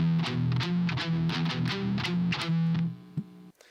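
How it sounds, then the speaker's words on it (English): Electric guitar playing a riff with heavy distortion and palm-muted chugging, a steady rhythmic pattern of short low notes that cuts off near the end. "Later, the same riff is played, but with distortion and palm mutes."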